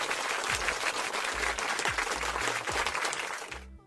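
Dense applause from a live-stream audience fills the clip, steady and close, with occasional low thumps beneath, then cuts off abruptly near the end.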